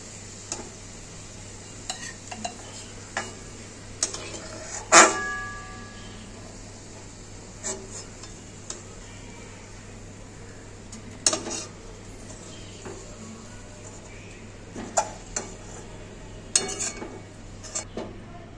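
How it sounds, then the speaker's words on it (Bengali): Fried onions being scooped from a pan of hot oil into a bowl for mutton kosha: scattered metallic scrapes and clinks of a spoon over a faint, steady low hiss, with one louder clank early on. "আর আমি বাটির মধ্যে পেঁয়াজ বেরেস্তাটা তুলে রাখবো।"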